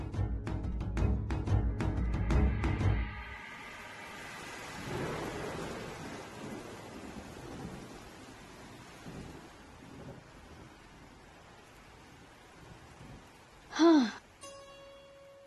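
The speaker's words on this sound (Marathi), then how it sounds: "आगीकोट पाऊस. अव बाहेर पडायची सोय नाही बघा." Heavy rain with thunder in a dark night storm: a loud rumbling roll of thunder at first gives way to a steady hiss of pouring rain, with a brief louder sound near the end.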